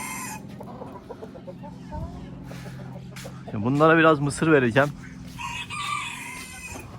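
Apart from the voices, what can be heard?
Brahma chickens and rooster clucking on a farm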